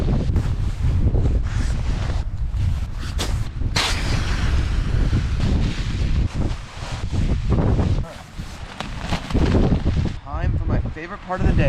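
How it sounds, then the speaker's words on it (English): Strong, gusty wind buffets a tarp and the microphone at an Alaska campsite, giving a loud, continuous roaring rumble with flapping bursts and a few brief lulls; a voice speaks over it. "It started getting really windy at 3 a.m. and it hasn't stopped since."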